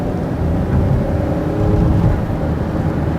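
A 2006 Honda Odyssey minivan accelerating, heard from inside as a steady low engine drone and road rumble with a gentle rise, loud and close, no talking.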